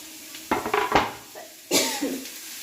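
Pumpkin leaf and flower thoran being stirred in a pan: a few close, distinct bursts of utensil scraping and clatter separated by quiet gaps, with no talking.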